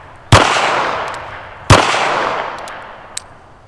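Two loud gunshots from a Standard Manufacturing Switch-Gun firing .22 Magnum rounds at a rubber dummy, about a second and a half apart, each a sharp crack followed by a long echoing tail.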